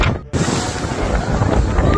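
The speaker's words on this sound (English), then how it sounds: "Ooh, it is windy." Strong wind buffets the microphone on a boat ride in San Francisco, a loud continuous rumbling roar with a brief dropout near the start and gusty surges throughout.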